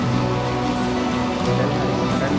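Morning rain falls as a dense, steady hiss across a city area, continuous and fairly loud throughout the short stretch, with no clear voices.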